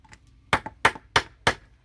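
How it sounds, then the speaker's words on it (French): Hammer blows driving a homemade decoration into the ground, four sharp strikes spaced about a third of a second apart, fairly close and loud against a quiet background, each followed by a short rebound tap. "Et ça va se planter en tapant du marteau."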